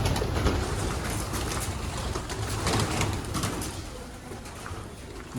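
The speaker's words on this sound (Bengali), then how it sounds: "এখানে দেখো কত পায়রা।" Pigeons coo repeatedly outdoors under a steady wash of broadband background noise, with no talking.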